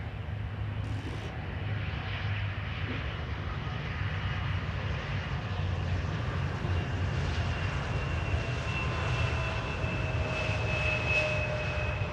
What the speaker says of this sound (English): I think it is Croatia Airlines inbound from Zagreb.